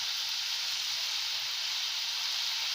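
Cashews and onion sautéing in a pan for matar paneer, heard as a steady, close hiss and sizzle that runs unbroken throughout, with no talk.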